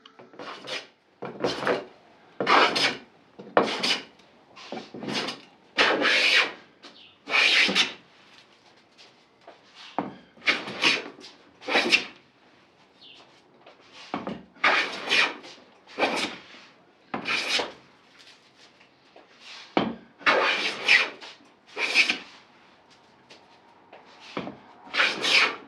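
Hand plane taking repeated rasping strokes across a wooden plank to flatten a high spot in the middle, about twenty steady passes of varying length, close and alone with no talk.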